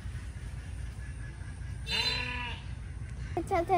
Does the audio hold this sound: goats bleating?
yes